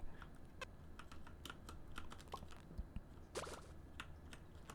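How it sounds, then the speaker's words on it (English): A computer mouse and keyboard give quiet, close clicks and key taps in an irregular, quick rhythm with small gaps. "so I can hear a little bit of my clicking and keyboard clicks"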